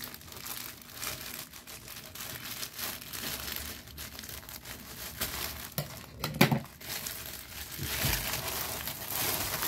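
Crinkly plastic packaging of a black jacket being pulled open and handled, with irregular rustles and a few sharper crunches and tears, close and fairly loud.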